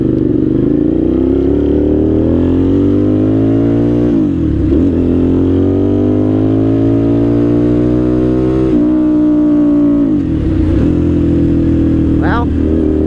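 A 1998 Suzuki TL1000R motorcycle pulls away in first gear, its engine rising in pitch through two long loud revving sweeps with a gear change between, close up, with a rider's voice speaking briefly.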